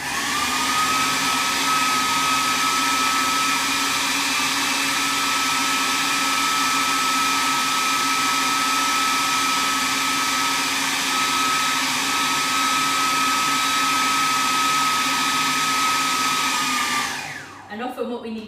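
A food processor whirs loudly and steadily, blending chickpeas and tahini with a constant high motor whine for about seventeen seconds before spinning down and stopping.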